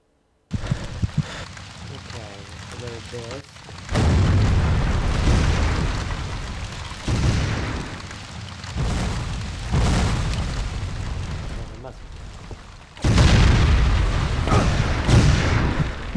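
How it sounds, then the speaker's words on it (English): Cannon fire in the PS2 game History Civil War: A Nation Divided, with heavy booming blasts rolling into long, rumbling surges that come again and again, loud and close, while a person talks at times. "I think I was hit by a cannon."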